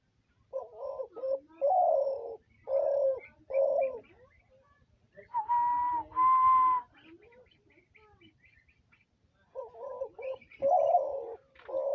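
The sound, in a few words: hunting spotted dove cooing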